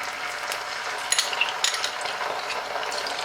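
Ginger garlic paste frying in hot oil, a dense continuous sizzle with scattered crackles and pops, close and fairly loud, no voices.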